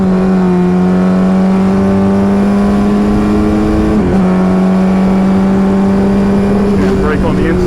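A race car pulls hard on a wet track at Summit Point Raceway, its engine droning loud and close in a steady, sustained rising note with a brief dip partway through. The driver talks over the engine.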